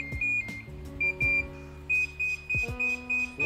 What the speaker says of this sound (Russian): Чем сильнее он пикает, тем больше уровень приема.